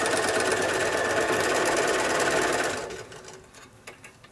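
A sewing machine stitches a quilt block seam, a fast, steady mechanical buzz heard close for under three seconds before stopping, followed by a few soft handling clicks.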